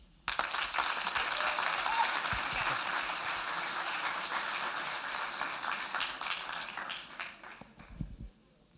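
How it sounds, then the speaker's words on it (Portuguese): An auditorium audience at a talk event breaks into sustained applause right after a speaker is introduced. The clapping is dense and steady for about seven seconds, then thins out and fades near the end. "Uma salva de palmas"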